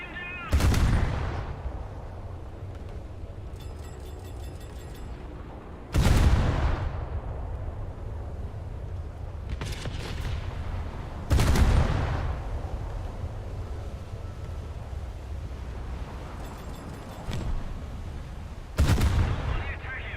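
A ship's anti-aircraft gunners firing in a naval video game, with heavy booming shots arriving every few seconds, each followed by a rumbling decay, plus faint rapid bursts between them.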